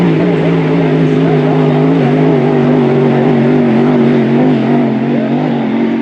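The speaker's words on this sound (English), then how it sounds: "But I'll tell you what's going on a race course right now is Kevin Eckert is out in front." Hydroplane race boats running the course at a Seafair race, with a loud, steady engine roar that holds a droning pitch for the whole stretch and shifts slightly as they pass, with no talking over it.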